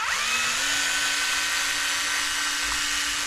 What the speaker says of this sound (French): c'est normal si je desserre pas le bon vis.